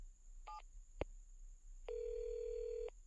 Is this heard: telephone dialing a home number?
yes